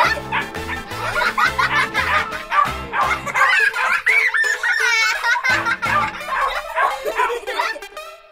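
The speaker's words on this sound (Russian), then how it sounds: "Ой! Вау, это собака!" A toy dog gives repeated yapping barks in a quick rhythm, mixed with giggling and excited children's voices talking over it in a close indoor room.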